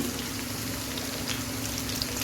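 Chilli, chopped carrot and beans fry in hot oil for a vegetarian chowmein, giving an even, quiet sizzle throughout with a few small pops and no talking.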